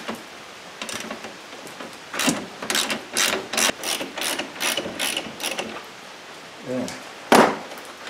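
Ratchet wrench clicking in repeated bursts while backing out two 12 mm bolts on a 2010 Subaru Forester losing coolant, close and moderately loud, with short pauses between strokes.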